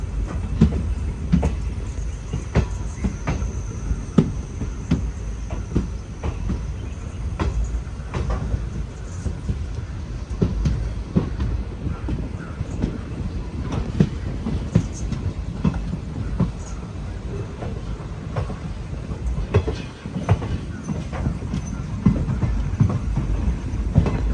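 A Cheruvathur–Mangaluru passenger train pulls out of the station with a continuous low rumble from the carriages and scattered clicks and knocks. The sound stays at an even, moderate level throughout.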